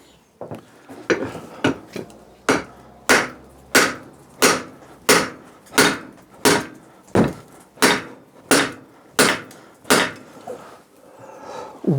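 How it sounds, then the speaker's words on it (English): Big nylon hammer striking the drive tyre of a David Brown 990 tractor: about fifteen steady, evenly spaced dull thumps, close and alone. "big nylon hammer."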